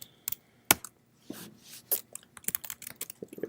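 Typing on a computer keyboard while entering a cloud configuration command: a few close, sharp key clicks and taps, irregular and fairly quiet, with brief pauses between strokes and no speech.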